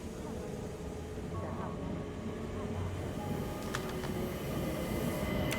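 Train noise on the Orient Express, a steady rumbling rolling hum with faint metallic clicks and a brief high squeal toward the end, continuous and fairly quiet throughout.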